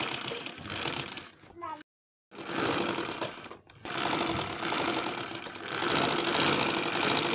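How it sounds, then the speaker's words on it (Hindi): Sewing machine stitching the collar of a school girl's uniform coat, a steady close rapid whir of needle strokes broken by two brief pauses, with faint talk in the background. "इसी तरह से सिलाई लगाते जाएंगे"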